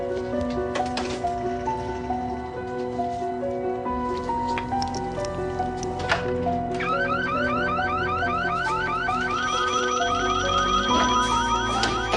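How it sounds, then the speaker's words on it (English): A loud electronic alarm blares continuously after being set off by accident, its layered warbling and pulsing tones repeating steadily with a fast chirping pattern joining midway, close and unbroken for the whole stretch. "I set off the alarm accidentally"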